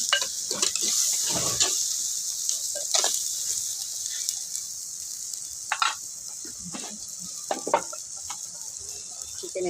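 Chicken sizzles steadily as it fries in a pan, with a constant bright hiss and occasional stirring scrapes and clinks over it.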